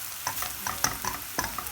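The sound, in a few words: onions frying and being stirred in a pan until dark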